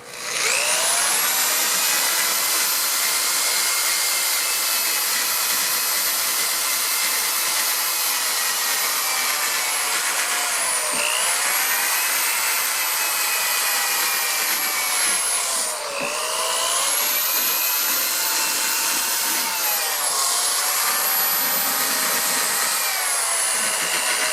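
A power tool sands and shapes foam rubber for a motorcycle saddle seat, giving a loud, steady high-pitched whine that runs continuously with slight pitch dips as the tool is moved, no voices.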